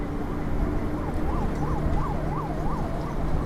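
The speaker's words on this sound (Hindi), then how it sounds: "एम्बुलेंस है, उनको निकलने देते हैं।" An ambulance siren wails in a fast, repeated up-and-down warble as it passes on a road. It sounds over steady traffic and engine rumble, with no voices.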